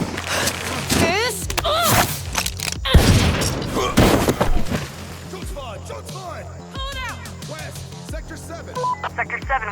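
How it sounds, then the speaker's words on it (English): Bursts of gunfire in a Valorant lore cinematic, several loud sharp shots and booms clustered early amid radio chatter and tense talk, with crackling comms and scattered impacts continuing under the voices. "Sector 7, we hear shots fired."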